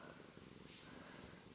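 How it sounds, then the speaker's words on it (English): A cat purrs steadily while curled up in a snug spot, a faint, continuous low rumble that runs through the whole moment with no talking. "I don't know if you can hear him purring"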